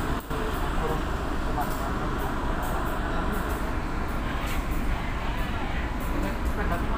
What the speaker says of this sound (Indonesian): Kereta api ekonomi lokal Cepu ya,